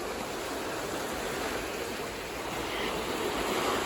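Water rushing down the fish ladder beside Pitlochry Dam, a steady, full broadband roar of flowing water that holds even and continuous throughout, with no voices over it.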